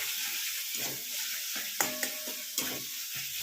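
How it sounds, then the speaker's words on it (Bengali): Soyabean kosha stirred in a frying pan, a steady hiss of frying under repeated scraping strokes of a spoon, with a few sharp clicks of utensil against the pan, close and moderately loud. "এটা দিয়ে একটু নাড়িয়ে নিলাম"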